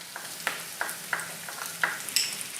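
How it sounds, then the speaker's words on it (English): Soup ingredients with vegan shrimp paste are stir-fried in a pan, a soft sizzle broken by about eight quick, light scrapes and clinks of a utensil at an uneven rhythm, with no speech. "continue to stir fry for about 20 to 30 seconds"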